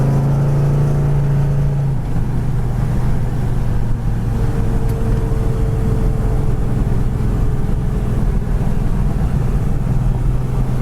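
A 1968 Pontiac GTO accelerating hard down the road, its engine a loud, sustained roar that holds steady throughout with no talking.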